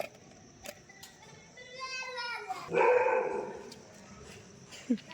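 A dog gives a short run of barks, then a louder bark burst, with clicks and small thumps around it and a soft voice nearby.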